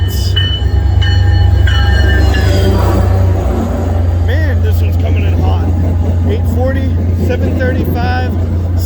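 An MBTA commuter train bound for Middleboro pulls into Braintree Station, a loud close rumble of engine and rolling wagons with squealing wheels and clattering rails, and a voice talking over it.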